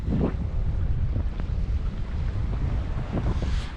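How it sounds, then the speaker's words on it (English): Strong wind gusting from 10 to 20 on a sailboat buffets the microphone in continuous rumbling gusts, loud and unbroken from start to finish. "gusty wind"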